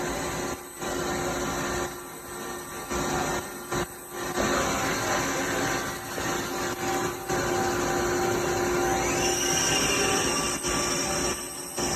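A Hardinge Quest GT-27SP CNC turning center spins its lathe spindle at 1,000 RPM, a steady moderate machine hum with whining tonal layers and small fluctuations, heard without talk.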